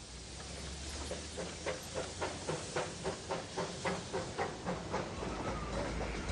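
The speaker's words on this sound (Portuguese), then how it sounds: "o trem chega à estação de Darjeeling" A steam train chuffs in a steady, rhythmic beat with hissing underneath, rolling along close by as it arrives at Darjeeling station.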